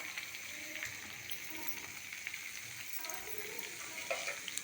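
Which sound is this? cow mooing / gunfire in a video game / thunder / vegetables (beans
vegetables (beans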